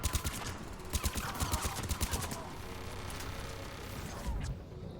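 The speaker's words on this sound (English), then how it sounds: "Oh, I hear a friggin' turret thing." Rapid bursts of automatic turret fire in Mass Effect 3, loud and close, rattling in quick clusters early on before fading into a dense battle wash with a final thump.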